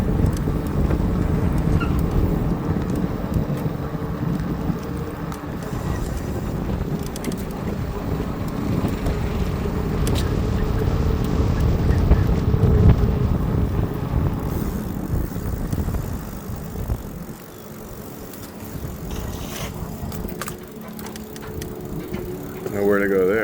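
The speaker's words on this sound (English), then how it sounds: "because it's so windy" Strong wind buffets the microphone while riding an ebike through Los Angeles near a lake, a loud, continuous rumbling roar that dips briefly near the end, with a voice speaking over it.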